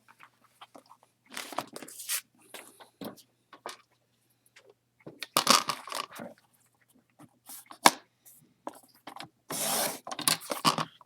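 Scissors trimming a paper sheet for a vintage Christmas album, with scattered soft snips, crunchy cuts and rustling paper handled close by, coming in short irregular bursts separated by quiet gaps.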